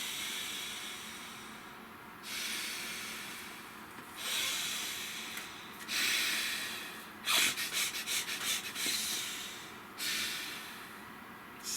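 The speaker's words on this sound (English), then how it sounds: "Please, a couple of nice deep breaths for me." Several slow, deep breaths are drawn in and let out close up, soft hissing inhales and exhales with one sharper, fluttering snort-like exhale midway, quiet and without speech.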